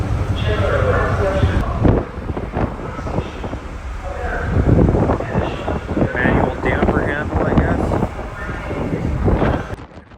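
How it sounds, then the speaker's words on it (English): Strong wind roars against the microphone in continuous low gusts on the deck of a BC Ferries C-Class ferry while a person talks over it nearby. "Really windy."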